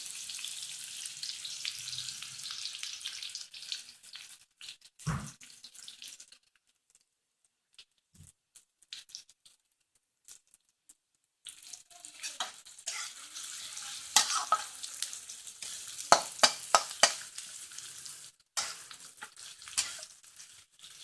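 Onions fry in hot oil for a North Indian ladies finger curry, giving an uneven sizzle and crackle with stirring scrapes, a quiet gap in the middle, then louder popping and sputtering bursts.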